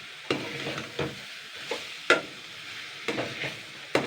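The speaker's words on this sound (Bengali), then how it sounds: "আমি দুই তিন মিনিট হালকা নাড়াচাড়া করে নেবো" Banana stem curry stirred in a pan over a gas flame: a spoon scrapes and knocks against the pan in irregular strokes, roughly six sharp taps over a low sizzle, close and alone.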